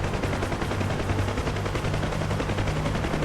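Continuous heavy gunfire and blasts as a tank is destroyed in the DCS combat flight game, a dense, loud rattle of rapid shots with no pauses and no voices.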